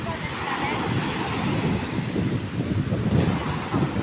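Steady rush of ocean surf with wind buffeting the microphone, a continuous broad roar of water without clear breaks between waves.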